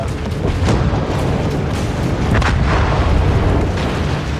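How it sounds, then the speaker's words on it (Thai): Torpedo strike on a ship's stern in the World of Warships video game, a loud sustained roaring explosion with rumbling low-end booms and bursts layered over each other for several seconds. "ตอร์ปิโดเข้าเป้าท้ายเรือ"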